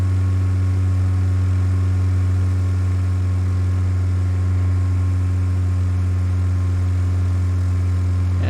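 A Long-EZ light aircraft in the MSFS 2020 flight simulator, its engine and propeller giving a constant loud, even drone with a strong low hum and steady harmonics throughout.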